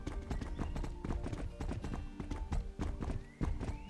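Horse hooves clip-clop in the horse-riding game Horse Club Adventures, a steady, fairly close walking rhythm of crisp hoof strikes on a hard surface, continuing throughout the clip.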